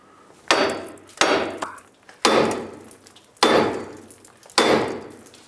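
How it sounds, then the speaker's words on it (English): A hammer strikes the top of a steering knuckle on a 2003–2009 Toyota 4Runner five times at an uneven pace, each sharp metallic blow ringing out and decaying, loud and close. "I'm going to hammer right here on the top of the knuckle."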